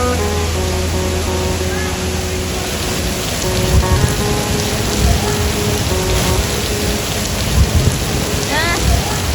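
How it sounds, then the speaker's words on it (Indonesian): Heavy rain pouring in Chinatown, Singapore, a dense steady roar of rain hitting surfaces with occasional rumbles and faint distant voices beneath. "Nah, kita terkurung dengan hujan. Hujan di tengah-tengah Chinatown."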